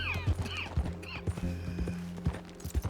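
Horse hooves clip-clop in Red Dead Redemption 2, a run of close, distinct hoof strikes in an uneven rhythm, with squeaky whinny-like cries and tack noises mixed in.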